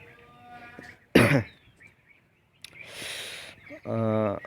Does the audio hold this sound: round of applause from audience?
no